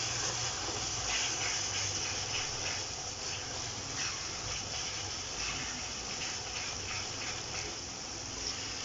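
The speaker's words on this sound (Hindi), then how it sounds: "ये माशाल्लाह हमारा मसाला बड़ी अच्छी खुशबू वाला भुन रहा है" Masala with turmeric roasts in butter in a pan for mixed vegetables, giving a continuous, even sizzling hiss close by, with faint irregular ticking from stirring and no voices.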